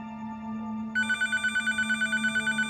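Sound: telephone ringing

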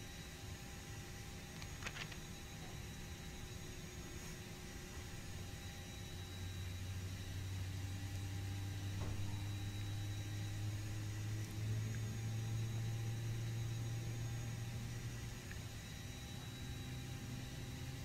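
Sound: A320 jet engine 2 running, from the video game FSX

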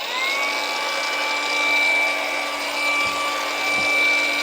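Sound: angle grinder running

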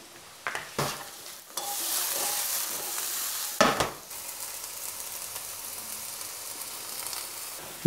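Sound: mushrooms and bell pepper frying in a pan

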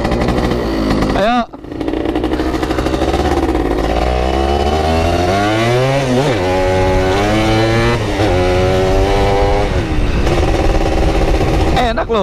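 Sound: motorcycle (bebek type) engine revving during test ride

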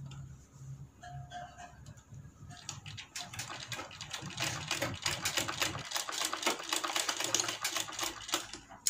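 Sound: sewing machine stitching a folded kurti seam

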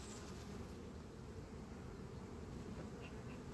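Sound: honeybees buzzing in an opened beehive

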